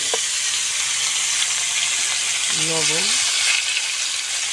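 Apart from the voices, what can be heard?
cauliflower and potato frying in fish-frying oil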